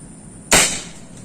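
A single sharp crack from a Predator Mini Bullpup air rifle firing a Cannon Dome pellet, loud and close, with a brief hissing tail after the shot.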